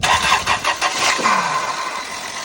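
A $500 car cranking and catching with a loose power steering pulley letting the belt come off, several quick cranking pulses followed by a rising engine roar that settles and fades, close and loud.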